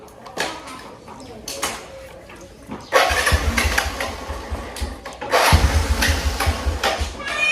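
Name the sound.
motorcycle engine being started with self-starter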